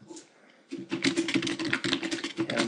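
Typing on a computer keyboard: after a brief quiet pause, a steady run of rapid, close keystrokes clatters on without pause.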